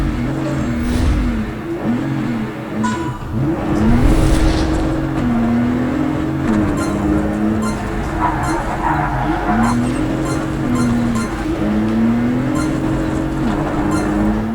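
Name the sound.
race car engine in video game Project Cars 3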